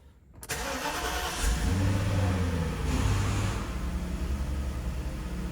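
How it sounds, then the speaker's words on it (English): A 1993 Mercedes-Benz 500SEL engine cranks and catches after a brief silence, revs up loudly, then settles into a steady, even idle with a second small rise in revs, heard close and alone. "Isaac, Papa's gonna start the car."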